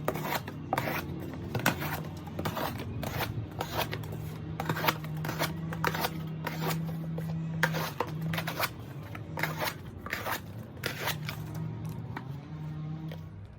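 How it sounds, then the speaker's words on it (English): A Bark River Forest Scandi knife in 3V steel slicing through stickers and tape, giving a continuous series of scraping, ripping strokes at close range with no talking. "Let's cut through the stickers. Let's cut through the tape."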